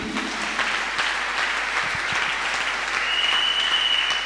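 A church congregation claps continuously in a dense, steady wash of applause that stays loud and even from start to finish.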